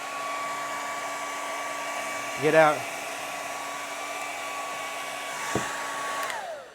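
A blow dryer hums steadily and close throughout while a camera skin is laid down, its whine holding level. A brief voice breaks in partway through, and a short click follows later.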